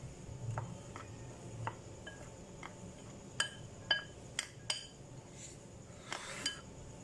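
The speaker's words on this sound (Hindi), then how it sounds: "ये कॉर्नफ्लावर है, इसको मिक्स कर लें अच्छे से" Spoon clinking against a bowl while cornflour is stirred in for cheese crepes, a run of light, sharp taps spaced irregularly, a few louder strikes in the middle, no talking, quiet kitchen.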